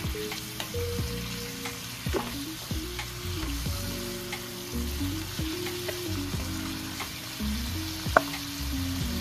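Marinated pork for Filipino humba fries in a pan, a constant close sizzle with a low hum beneath and repeated scraping stirs of a spatula every second or so, no voices.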